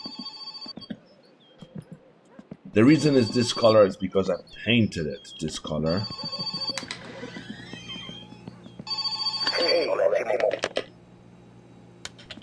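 A telephone rings in the car-building game My Winter Car, a thin steady tone heard at the start and again near the end. Someone talks over it.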